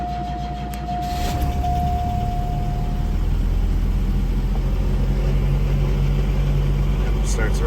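A 2-liter four-cylinder Cadillac Cimarron starts cold and settles into a steady idle, its engine rumbling loud and close with a continuous hum after the initial catch.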